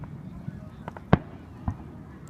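Fireworks over Stamford, Connecticut on July 2nd, 2015: one sharp, loud bang and a softer, later pop against a low background, with people talking nearby.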